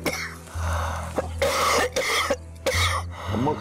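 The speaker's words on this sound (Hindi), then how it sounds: "अम्मा खांसी क्यों हो रही है?" A woman coughs repeatedly in harsh, close bursts, several fits separated by short gasps and pauses.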